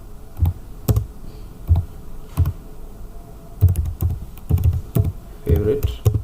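C++ code typed on a computer keyboard: close, clattering bursts of keystrokes in irregular clusters separated by short pauses, with no talking.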